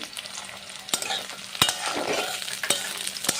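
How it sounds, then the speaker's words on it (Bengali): Onion and garlic stir-fry in mustard oil with a steady sizzle, while a spatula scrapes and knocks against the pan several times at close range. "বেশ কিছুক্ষণ একটু ভাজা ভাজা করে নিতে হবে"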